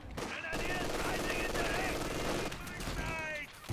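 Sustained machine gun fire in the real-time strategy game Company of Heroes 2, steady rattling bursts throughout with battle noise layered over it, moderately loud at a slight distance.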